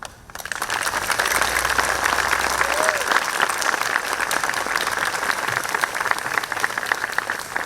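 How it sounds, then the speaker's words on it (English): An audience at a Night in Oaxaca livestream event claps steadily for Mia, with dense, sustained applause from a crowd. "Let's go ahead and give Mia another round of applause, please"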